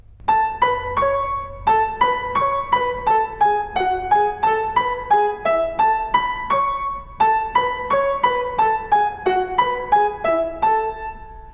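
Piano octaves played with the thumb detached and staccato on the lower notes while the top line stays smooth and legato, a steady run of repeated strikes heard solo and close.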